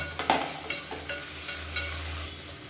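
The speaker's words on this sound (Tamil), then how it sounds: "வெங்காயம் வதங்கிட்டு இருக்கும்போது ஒரு கைப்பிடி கொத்தமல்லியில் சேர்த்துக்கலாம்." Onions with coriander and mint sautéing in oil in a home kitchen, a soft steady sizzle with a few light stirring scrapes near the start, no talking.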